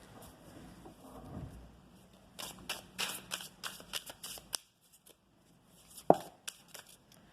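Tarot cards are handled and shuffled up close, with a quick series of crisp riffling flicks and slaps in the middle, a short pause, then a soft tap and more light shuffling at a low level.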